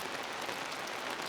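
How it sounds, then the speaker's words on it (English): Heavy rain falls hard outdoors in a garden, a dense, steady hiss of drops hitting surfaces with no break and no voices. "And now for the past hour or so it's been raining pretty hard."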